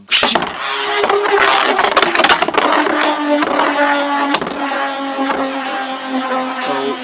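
A Meteo L-Drago Beyblade test spin in a stadium, opening with a loud launch and rattling bumps, then a steady high whirring spin that grinds around the bowl for several seconds, close and loud, with no talk.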